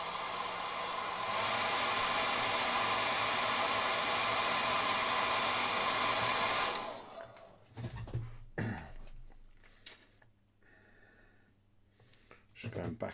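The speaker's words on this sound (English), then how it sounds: "I've got to use my hair dryer" Hair dryer blowing to dry paint on a miniature, a loud steady whooshing hiss that runs for several seconds and then cuts off, followed by quiet clicks and handling noises.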